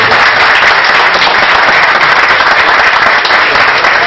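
Applause from an audience at a third-birthday celebration for a sports club, dense sustained clapping that fills the whole stretch, loud and close, with no break.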